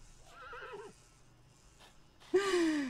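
A horse neighs twice in The Sims 4, with a wavering whinny followed by a louder, sharper one at the end, clear and close.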